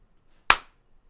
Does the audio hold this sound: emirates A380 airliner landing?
no